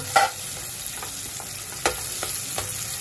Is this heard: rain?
no